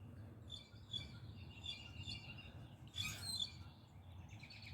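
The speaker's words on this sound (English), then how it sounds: "listening to the birds." Birds chirp and sing in a garden in the morning, with faint repeated calls at a moderate distance over low background rumble and a brief louder burst of song partway through.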